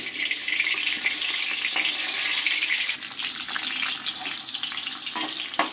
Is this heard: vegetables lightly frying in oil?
yes